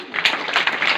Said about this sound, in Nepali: ग्रीन को लागि ताली